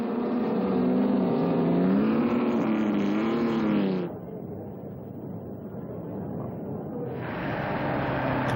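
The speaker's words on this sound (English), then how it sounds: "Bira passes slower traffic, drifting the ERA through the curves and up to the line to take the checkered flag" A vintage ERA racing car's engine roars close by on a circuit while passing slower traffic, its pitch rising and shifting through the curves, then drops away briefly before surging back.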